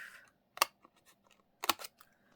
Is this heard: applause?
no